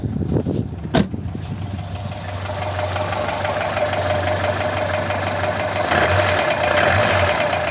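Ford Sierra 1.6 OHC engine running on a Solex 2108 carburetor, a close, steady idle with a low hum and faint ticking, beginning with a sharp click and revs rising slightly toward the end.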